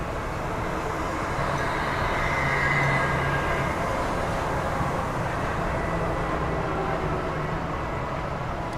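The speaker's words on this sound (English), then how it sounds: "Here's the monorail." The Las Vegas monorail passes at a distance as a continuous rumbling roar that stays loud and even through the whole stretch, set against a busy outdoor city background.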